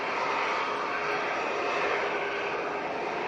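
Emirates Airbus A380 jet taxiing toward its stand, a loud, steady broadband engine roar and rumble that holds evenly, heard from nearby with no voices.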